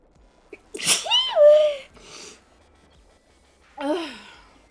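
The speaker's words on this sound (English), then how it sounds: "I have to sneeze" A single sharp sneeze with a wheezy vocal tail, followed by a short breathy exhale and a second softer voiced sound, close and alone against near silence.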